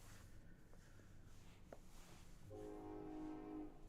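Train horn and rolling rail noise from the Honkai: Star Rail video game, a sustained horn tone entering partway through over soft rumble, quiet and with no talking.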